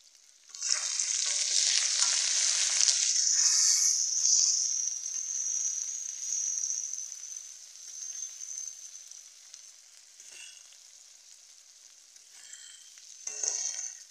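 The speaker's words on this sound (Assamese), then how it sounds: "আৰু আদা নহৰু আৰু জলকীয়াৰ পেষ্ট দি দিলোঁ ইয়াত।" Ginger, garlic and chili paste hit hot oil in a pan for a lentil and meat curry, erupting in a loud, hissing sizzle that gradually settles into a softer crackle, with a brief flare near the end.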